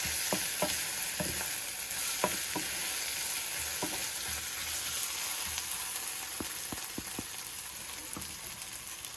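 Spices stirred into a sizzling pan of egg curry (egg bhuna) with bay leaf, cinnamon and cardamom, a steady broadband frying hiss under repeated sharp spoon scrapes and clinks, close and continuous.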